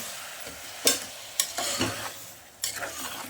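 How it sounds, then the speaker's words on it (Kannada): Tomatoes frying in oil in a pan for a drumstick gravy, with a spoon stirring through them: a soft steady sizzle broken by a few sharp scraping strokes, close and fairly quiet, no voices. "ಟೊಮೊಟೊ ಚೆನ್ನಾಗಿ ಚೆನ್ನಾಗಿ ಫ್ರೈ ಆಗಬೇಕು"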